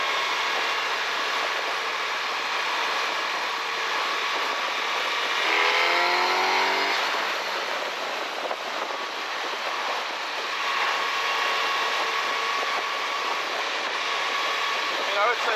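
A Suzuki GSX-S1000GX+ motorcycle engine heard while riding, a steady droning hum with a brief rising rev midway, mixed with wind rush, moderately loud and continuous.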